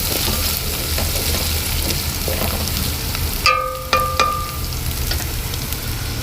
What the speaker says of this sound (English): the ginger and garlic paste in the ghee, and when they start to fry up